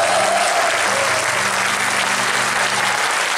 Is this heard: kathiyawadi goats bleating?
no